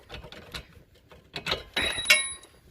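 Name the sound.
removing 15mm shock bolt on Ford Mustang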